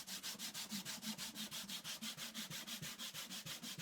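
Hand sanding of a vintage wooden coffer chest with 100 grit sandpaper produces close, steady back-and-forth rasping strokes in an even rhythm, about five strokes per second.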